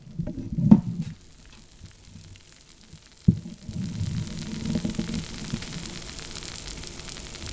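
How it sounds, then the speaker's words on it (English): Pizza crust frying in oil in a pan at home, a soft continuous sizzle with a couple of sharp knocks from handling, steady and fairly quiet throughout. "I hear butter frying that crust sounds delicious."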